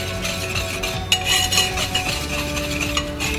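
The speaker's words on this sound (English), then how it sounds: "I'm just gonna grab my whisk, whoops, mix these together" Wire whisk stirring dry cake ingredients for a caramel apple cake in a bowl, a steady scraping, clinking rhythm of metal against the bowl, close and moderately loud with no talking.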